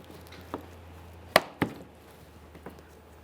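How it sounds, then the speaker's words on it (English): A plastic fog light bezel on a 2013-2020 Ford Fusion snaps into place with a sharp, close click, followed by a second snap; a couple of fainter knocks sit around them in a quiet room. "Listen for a click, give it a tug,"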